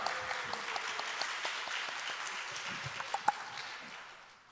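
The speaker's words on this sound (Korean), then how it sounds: "박수로 환영해 주시기 바랍니다" A church congregation claps steadily for several seconds, a dense patter of hands that fades out toward the end.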